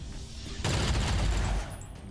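A burst of gunfire from a shot in XCOM 2 Long War 2 erupts loudly for about a second, a dense crackling fusillade that cuts off and leaves a lingering low rumble.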